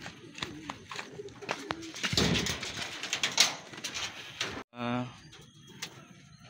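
Racing pigeons coo and flutter at a loft during tayug training, close and intermittent, mixed with rustling and knocks while someone talks.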